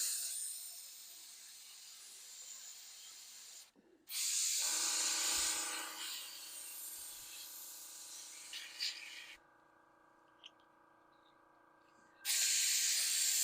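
An airbrush being rinsed of primer gives off bursts of sharp spraying hiss with a steady whine beneath, stopping and starting across the stretch with quiet gaps between blasts.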